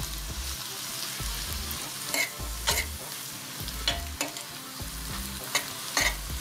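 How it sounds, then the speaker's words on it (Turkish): Fresh spinach sizzles and crackles as it is stirred and sautéed in a pot over medium heat, a steady frying hiss with sharp clicks of the spoon scraping every second or so, close and clear with no talking. "ıspanağımızı içerisine atacağız. Yavaş yavaş kavuracağız ve ilave edeceğiz."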